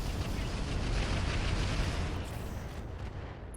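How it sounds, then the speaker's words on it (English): Heavy mech weapons let loose together in the RogueTech mod of the BattleTech game, firing at a Thunderbolt mech: a dense, continuous rumbling barrage of blasts that stays loud and steady for several seconds with no talk. "Firing everything I've got."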